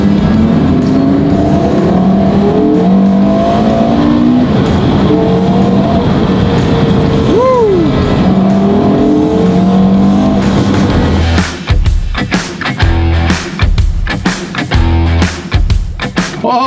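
A mid-engine Porsche sports car drives past loudly with a strong engine roar, a brief whine or squeal near the middle, and choppier revving bursts toward the end.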